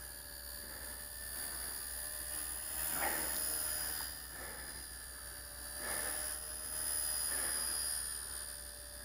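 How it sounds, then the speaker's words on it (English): A small WLToys V930 RC helicopter spins its rotor up on a makeshift cardboard pad, giving a thin, steady electric whine with soft whooshing swells, faint and fairly distant, with no talking. "Just testing the spin up there."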